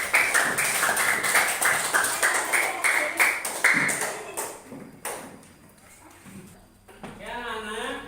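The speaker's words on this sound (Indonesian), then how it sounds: "Ayo tepuk tangan semuanya." A classroom of children claps together after a teacher's prompt, a rapid, dense burst of hand claps that thins out and fades, with voices heard.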